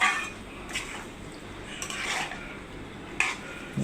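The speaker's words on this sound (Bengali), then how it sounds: "দেওয়ার পর একটু নেড়ে চেড়ে মিশিয়ে নিলাম।" A spoon scrapes and clinks against a pot while beef tripe curry is stirred, three or four distinct scraping strokes over a soft, steady cooking hiss, close and moderately loud.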